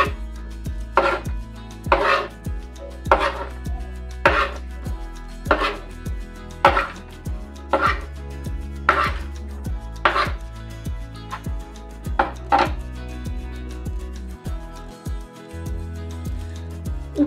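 A knife chops food on a board in about a dozen crisp, evenly spaced strikes roughly once a second. The chops are close and distinct, and a few quieter handling sounds follow at the end.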